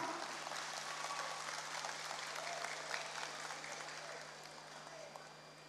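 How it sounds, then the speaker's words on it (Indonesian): Crowd clapping at a volunteer group's declaration rally backing Prabowo and Gibran, steady and fairly distant, with a faint electrical hum running beneath it. "Tepuk tangan untuk Anda semua"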